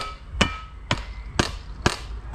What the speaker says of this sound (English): I'm gonna get a hammer out. We're just gonna tap it.